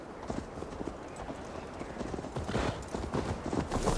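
Hoofbeats of a horse ridden in Assassin's Creed Valhalla, a steady galloping clip-clop rhythm with jingling tack, close and continuous, growing slightly louder toward the end.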